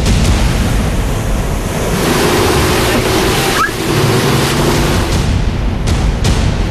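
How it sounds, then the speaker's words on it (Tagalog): Heavy surf roars continuously with strong wind buffeting the microphone, waves crashing loud and close with a low engine-like hum underneath. "nagsimula na silang bayuhin ng malalakas na alon"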